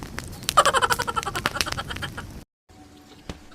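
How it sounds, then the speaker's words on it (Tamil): Chickens squawking close by in a rapid burst of harsh, honking cries that falls silent abruptly, followed by faint background noise and one sharp knock. "கோழியெல்லாம் கத்துது"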